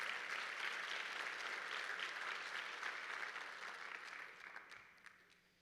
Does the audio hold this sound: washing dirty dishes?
no